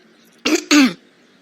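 A woman clears her throat twice, two short, close, gruff bursts separated by a brief pause, then quiet.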